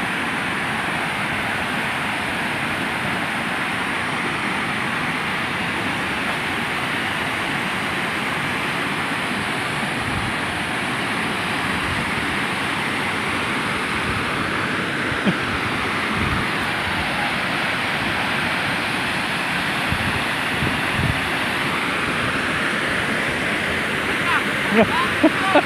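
Flash flood water rushes through a village in Aceh Tengah, Aceh, a loud continuous roar with no breaks throughout.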